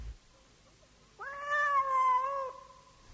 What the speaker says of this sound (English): the cat cried